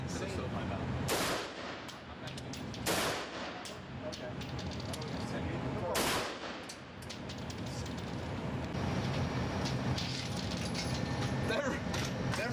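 Gunshots from an AR rifle with a Pyramid trigger crack out at a shooting range, three sharp loud reports spaced a couple of seconds apart, with people talking between them.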